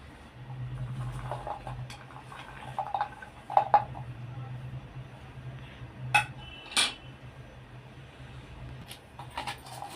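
Mango pickle ingredients are stirred together in a bowl, with scattered utensil clinks and scrapes over a low background hum, a few sharper knocks standing out.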